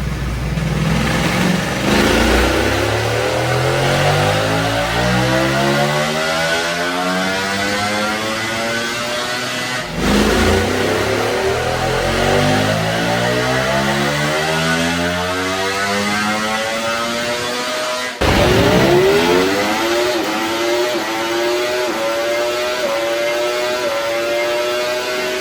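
Stock 2025 Ducati Panigale V4 sportbike engine on a dyno running VP race fuel, loud close pulls that climb steadily in pitch through the gears, three full sweeps with brief drops between them.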